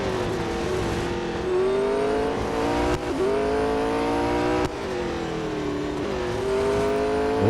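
McLaren 720S GT3 race car engine in Real Racing 3, a loud, steady high-pitched drone rising and falling through gear shifts, with a few sharp breaks as it climbs in revs again.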